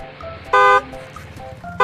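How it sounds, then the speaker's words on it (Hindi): A car horn gives two short honks, loud and nearby, the first a clear blast and the second cut off at the end, over low road rumble. "पीछे से कोई हॉर्न मार रहा है यार"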